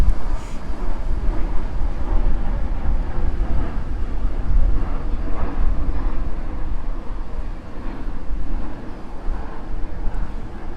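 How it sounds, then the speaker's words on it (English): A loud plane passing overhead produces a continuous low roar mixed with buffeting wind noise. It dominates the scene throughout, and no one speaks. "that sounds like a loud plane, so I'm gonna pause and let it go by"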